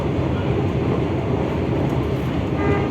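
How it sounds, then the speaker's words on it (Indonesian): Manahan passenger train passing close by on the line near Yogyakarta, a loud, continuous rumbling rush of wheels and carriages filling the whole clip. "Kereta Manahan."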